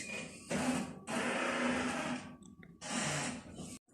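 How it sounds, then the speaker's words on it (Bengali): Kitchen blender grinding kebab ingredients, running in three loud whirring bursts separated by short pauses, close and alone without talk. "সব একসাথে আমি ব্লেন্ডার করে নিব"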